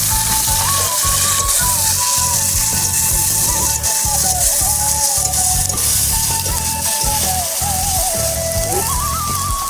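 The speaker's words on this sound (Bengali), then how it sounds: "কমপ্লিট মশলাগুলোকে একটু ভেজে নেব" Spice paste of ground garlic, onion and ginger fries in a pan with a steady, dense sizzle, loud and continuous throughout, beneath soft background music.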